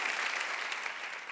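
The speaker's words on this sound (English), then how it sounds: "please, another round of applause" An audience at the 2015 Hispanic Heritage Awards gives a steady, dense round of applause for a healthcare award presentation, many hands clapping together at an even level from start to finish with no voice over it.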